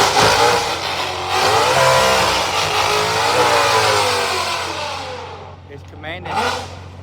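A drag race car accelerates down the track at Shadyside, its engine roaring loud and rising in pitch with a brief dip and a second surge near the end, with a voice talking over it.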